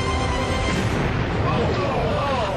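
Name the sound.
Delta II rocket exploding after liftoff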